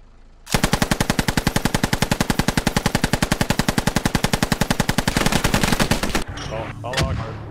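Sustained automatic gunfire in the video game Squad during an urban battle, a long rapid burst of evenly spaced loud shots lasting several seconds before stopping, followed by fainter distant noise.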